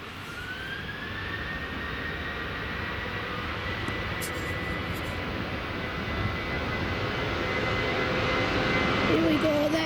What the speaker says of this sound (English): So we've just got jet2.com getting ready to depart out here on